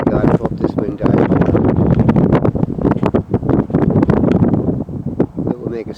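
Strong outdoor wind buffets the microphone near boats, gusting roughly and loudly throughout, with a voice talking under the rumble.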